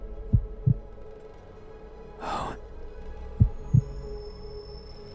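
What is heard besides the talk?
heartbeat in a horror video game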